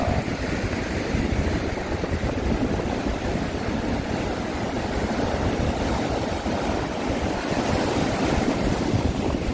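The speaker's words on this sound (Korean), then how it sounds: "자, 파도가 속속 오는 모습을 보여드리도록 하겠습니다." Heavy surf keeps rolling in against the rocky coast at Yeonggeumjeong near Dongmyeong Port, producing a sustained, loud, churning roar with wind rumble on the microphone and no voices throughout.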